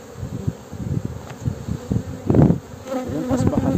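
Honeybees buzz steadily around an open hive during an inspection, a dense droning hum with a louder close pass midway as bees fly near, and no voices.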